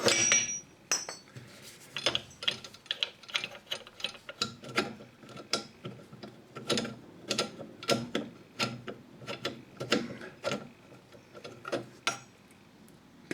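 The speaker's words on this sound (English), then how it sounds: "get the box wrench on, and then undo that nut" A box wrench working the nut of a traditional basin tap: repeated close metallic ratcheting clicks and scrapes in an irregular rhythm, with small knocks against fittings, no talking.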